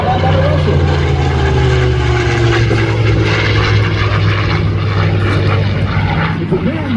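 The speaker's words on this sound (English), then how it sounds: "The P-63 King Cobra you see here today, interestingly enough, as she comes in from the right, was never used in combat by the American forces." A P-63 King Cobra warbird, with its engine mounted behind the pilot, passes at an airshow. A loud, sustained propeller-engine drone with a slowly shifting pitch fills the whole stretch.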